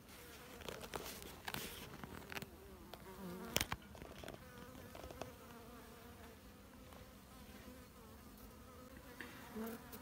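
Steady buzzing of many bees swarming around a hive, close and continuous, with a few soft knocks and taps mixed in.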